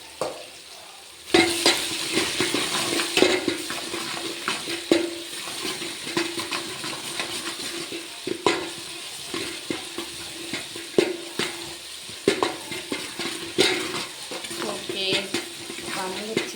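Onion, tomato, curry masala and cinnamon frying in a pan, a continuous sizzle broken by repeated spoon scrapes and stirring knocks, close and moderately loud, no talking.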